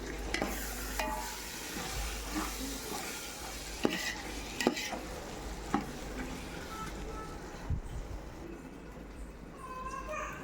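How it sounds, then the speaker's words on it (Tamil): Prawns fry in a pan for biryani while being stirred, with a soft continuous sizzle broken by scattered scrapes and taps of the spoon against the metal. "ப்ரான் போட்டு ஒரு கிண்டிடணும்."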